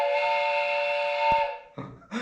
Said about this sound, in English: But there's ones like train whistle.